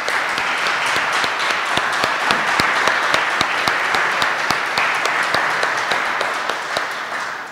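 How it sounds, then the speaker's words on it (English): An audience at a fiber optic utility event in Ammon gives a steady round of applause, dense clapping with sharp individual claps standing out, fading slightly toward the end. "ask us all to give a round of applause to all these folks in Ammon"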